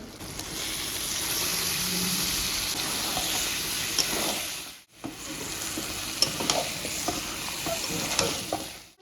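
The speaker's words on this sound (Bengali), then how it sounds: "মশলা থেকে তেল ছেড়ে দিয়েছি এখন আমি মাংসটা দিয়ে দেবো" Goat meat goes into hot spiced oil in a kadai and sizzles loudly and steadily while being stirred, with a brief break midway before the frying hiss resumes.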